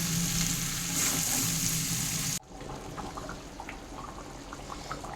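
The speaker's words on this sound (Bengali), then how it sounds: "এর মধ্যে আমি দিয়ে দেবো জল।" Chicken and potatoes fry in a pan with a loud, hissing sizzle. Water poured in abruptly cuts it to a quieter, bubbling simmer with small pops.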